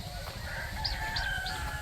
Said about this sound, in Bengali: এই হচ্ছে হাঁস মুরগি রাখার জায়গা